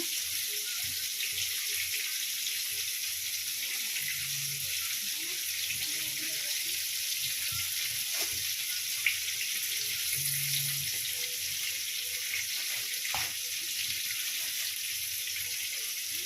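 Water runs steadily from a kitchen tap as Gobindobhog rice is rinsed for khichuri, a constant soft rushing hiss with a few faint clinks underneath.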